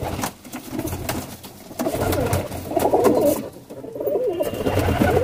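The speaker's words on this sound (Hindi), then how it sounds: "ये जो मेरा कबूतर का बच्चा है" Soft, repeated cooing from a young pigeon close by, a low throaty burbling that rises and falls over several seconds with no talking.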